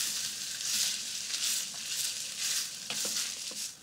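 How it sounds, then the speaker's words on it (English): Celery, onions and other vegetables sauteing in a pot for tomato sauce, a soft continuous sizzle with occasional stirring clicks, moderately quiet and alone. "we're just going to brown them off slightly"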